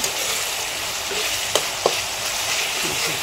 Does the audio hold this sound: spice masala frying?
yes